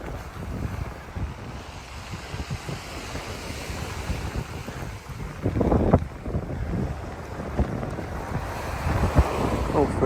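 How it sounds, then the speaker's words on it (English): Sea waves wash against the Kent coast in a steady, broad rush that swells and recedes, with gusty wind buffeting the microphone throughout and no talk. "listening to that lovely sound of the sea"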